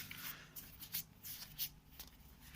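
Playing cards from The 7th Continent board game are handled and put away, soft close sliding and flicking sounds in quick irregular bursts, quiet and alone.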